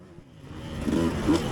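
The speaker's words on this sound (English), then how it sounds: "I heard a bike behind me" A dirt bike engine in a cross-country race comes up from behind, its mid-pitched drone rising in loudness and revving over a second and a half, heard through wind and nearby engine noise.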